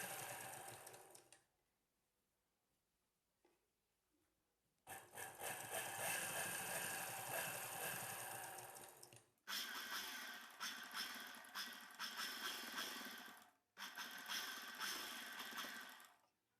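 A sewing machine stitches lining onto the neck of a net blouse in bursts of fast, close mechanical chatter, with short pauses between runs.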